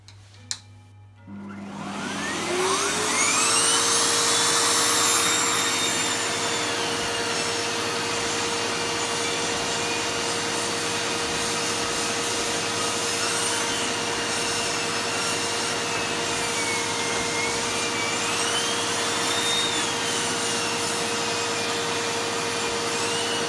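A SEBO Automatic X4 Pet vacuum cleaner with turbo brush attached switches on with a click and spins up to a loud, steady whine that runs on without interruption, close by.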